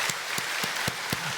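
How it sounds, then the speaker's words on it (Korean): A church congregation gives a short round of applause for children at a Sunday evening service, a few distinct claps spaced out in a faint, thin patter with no talking. "우리 박수할까요"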